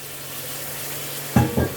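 Meat marinated in vinegar and chili powder hits a hot pan, giving two short, close bursts of sizzling after a quiet, humming lead-in.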